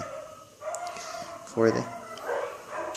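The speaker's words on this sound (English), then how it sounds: "The neighborhood dogs were being noisy." Neighborhood dogs bark and yip at a distance, one brief louder bark standing out, mostly under a person's speech.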